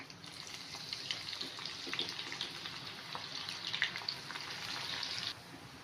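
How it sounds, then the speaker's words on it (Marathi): Sliced onion fries in oil for birista, giving a steady, dense sizzle and crackle throughout, close and continuous, before it drops off abruptly near the end. "आता हे बरिस्तासाठी आपण हा कांदा तळून घेऊया."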